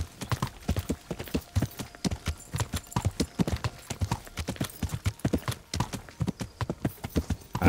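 Horse hooves clop in a quick, steady rhythm while riding in the video game Kingdom Come: Deliverance. The hoofbeats run alone and evenly from start to finish.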